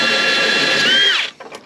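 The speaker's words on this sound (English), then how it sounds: "Got our spot weld cutter loaded up into our drill, and let's get to it." A power drill fitted with a spot weld cutter bites into sheet metal on a 1967 Camaro. It gives a loud, steady, high-pitched grinding whine that bends downward and cuts off after about a second, followed by a few faint clinks.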